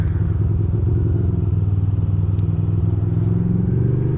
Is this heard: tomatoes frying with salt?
no